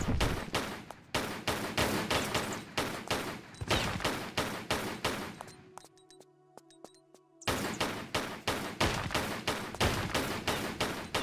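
In a Tomb Raider custom level, rapid, loud gunshots fire in long, evenly spaced bursts at bats. The shots break off into a brief lull of mechanical tones, then the steady firing resumes.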